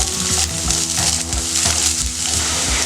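Sliced onion sautéing in hot oil in a pan for beetroot cutlets, a steady close sizzle with soft scraping stirs and occasional spatula knocks, no voices.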